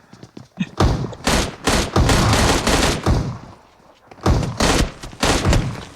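Automatic rifle fire in a battle royale video game tournament match: several loud, close bursts of rapid shots separated by short pauses, with a French commentator speaking over them.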